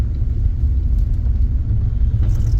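Car driving along a rough, ungraded forest road, a steady loud low rumble of engine and tires with faint rattles throughout, close and continuous, no voices.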